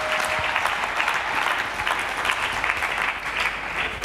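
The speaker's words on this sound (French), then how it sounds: "Est-ce qu'on peut acclamer très fort?" A church congregation claps and cheers loudly and steadily, a dense continuous wash of applause from many hands throughout, with no talk over it.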